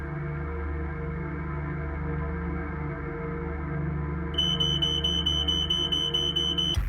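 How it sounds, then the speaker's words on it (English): A smoke alarm sounds in a fire safety announcement, a fast series of shrill electronic beeps that starts partway through over a steady low electronic hum. "Your risk of dying in a home fire is cut in half when a working smoke alarm is present."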